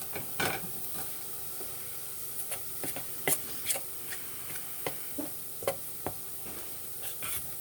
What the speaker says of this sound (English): Remember to give that a stir.